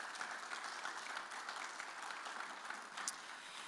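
An audience at a school board gathering breaks into even, continuous applause, fairly soft and distant, with one brighter clap standing out near the end.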